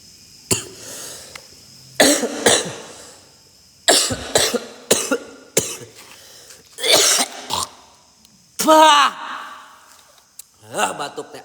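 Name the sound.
coughing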